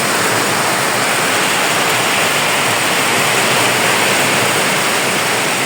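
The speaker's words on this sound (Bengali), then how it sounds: "বেশ ভালো জোরেই বৃষ্টিটা পড়া শুরু করছে।" Heavy rain pours down in a dense, loud, continuous hiss on a wet morning in Bangladesh, steady throughout with no pauses.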